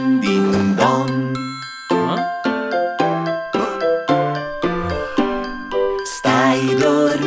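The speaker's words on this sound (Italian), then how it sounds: "Senti la campana, senti la campana." Bright ringing bells chime in a steady, loud pattern of struck notes through a children's song, the tones repeating in short bursts and ending in a fuller cluster of chimes.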